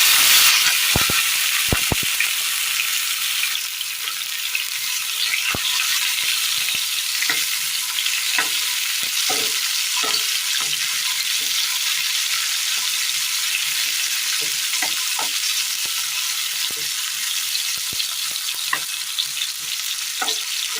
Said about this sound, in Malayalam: കടുക് പൊട്ടിയതിന് ശേഷം ഇതിലേക്ക് തക്കാളി അരിഞ്ഞത് ഇട്ട് കൊടുക്കാം.